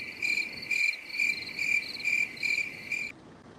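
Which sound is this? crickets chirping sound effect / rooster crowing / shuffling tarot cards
crickets chirping sound effect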